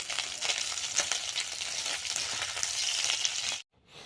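Steady, crackling sizzle of prawns frying in hot oil, close and fairly loud, continuing for several seconds before cutting off abruptly.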